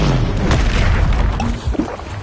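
An Incendio fire spell blast in Hogwarts Legacy, a loud rumbling boom with fiery crackle that swells, then a couple of sharper hits near the end, no talking.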